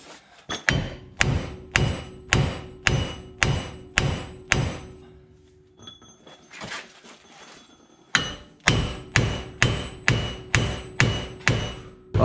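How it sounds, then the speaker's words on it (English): A heavy four-pound hammer strikes a rusted front wheel hub on a Nissan Titan in a steady, evenly spaced run of loud clanging blows, then a brief pause, then another rapid series of hits. "I'm just going to hit this thing with the same 4-pound hammer"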